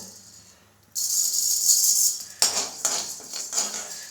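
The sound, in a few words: jowar (sorghum) grains being roasted spoon by spoon in a pan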